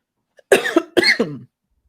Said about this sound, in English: I gotta go get a cough drop